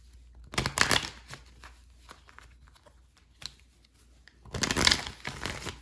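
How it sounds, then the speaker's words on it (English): Tarot cards being shuffled and pulled, with two loud bursts of riffling and crinkling card noise separated by quieter handling and a few soft taps, close up and with no talking. "Let's pull a few cards for you."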